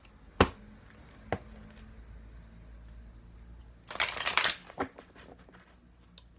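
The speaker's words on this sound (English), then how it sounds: "Lovely to shuffle these cards, such a good size as well." Large tarot cards are shuffled by hand in a quiet room, with a couple of soft taps of the deck, then a brief, dense flurry of riffling card noise close by.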